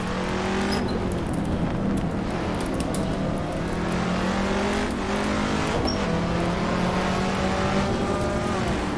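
A race car in the Assetto Corsa racing game roars at high revs, engine pitch climbing through gear changes as it accelerates hard along the track, loud and continuous with occasional tire squeal.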